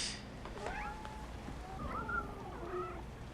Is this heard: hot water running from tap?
no